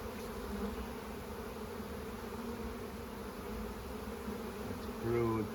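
Honey bees buzz around an open hive frame holding brood and eggs as the hive is split. The steady, soft, droning hum holds throughout, and a louder buzz passes close by near the end.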